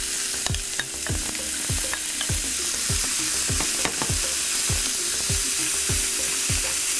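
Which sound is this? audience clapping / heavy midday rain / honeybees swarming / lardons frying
lardons frying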